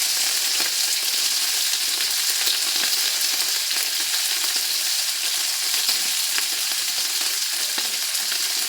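Tawilis fish frying in hot oil, a constant bright crackling sizzle that stays loud and even throughout with occasional stirring noises.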